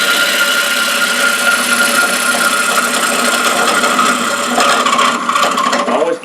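Lathe gouge cutting into the end grain of a Bradford pear bowl, a loud, continuous rough scraping hiss over the motor's drone, close and steady, roughening slightly near the end.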